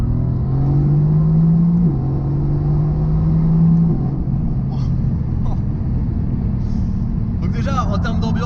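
A Mercedes-AMG GT S V8 burbles at very low speed, a steady close rumble with a smooth tone that dips and settles twice, while someone talks over it throughout.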